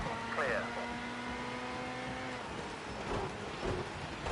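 Rain hissing steadily during a rallycross race in a racing video game, with engine tones and whining car sounds over it and someone talking across the clip.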